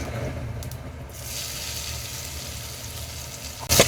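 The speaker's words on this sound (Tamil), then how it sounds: "இப்போ இது எல்லாத்தையும் நல்லா வதக்கி விட்டுடலாங்க" Masala, crushed garlic, green chili and curry leaves sautéing in hot oil, a steady moderate frying hiss with a short louder burst of sizzle near the end.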